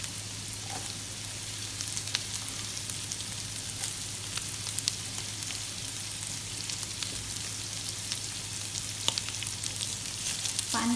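Thin pieces of pork belly pan frying, a steady close sizzle with scattered tiny pops and a low constant hum running underneath.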